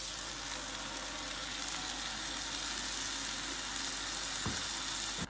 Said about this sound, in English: Give it a good mix and let's add the ground spinach that we had done in the beginning.